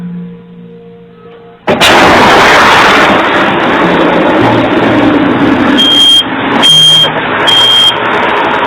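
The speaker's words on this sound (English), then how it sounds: "The home's water boiler had exploded, sending metallic and wooden shrapnel flying in every direction" A water boiler explodes in a children's playroom, caught on a baby monitor: a sudden, very loud blast that then stays as a harsh, distorted roar, with beeping alarm tones entering near the end.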